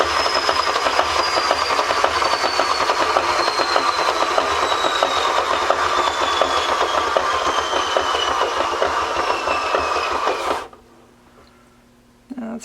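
A paint spinner whirs continuously while turning an acrylic pour, a steady mechanical whine with falling pitch and rattling clicks, then abruptly cuts to near silence before a brief bump at the end.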